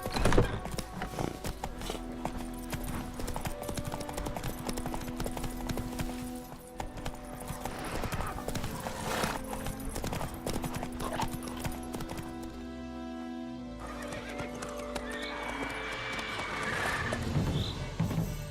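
The horse Roach gallops in the video game The Witcher 3, with steady, rapid clip-clop hoofbeats running throughout over a sustained droning game score, near and moderately loud, with no talking.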